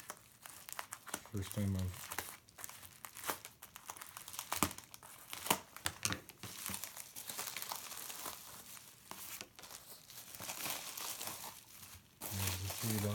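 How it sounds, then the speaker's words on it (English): A sturdy bubble wrap envelope holding CBD hemp oil bottles is torn open, giving close, continuous crinkling and tearing of plastic, with a voice briefly speaking. "It's in a very sturdy bubble wrap envelope."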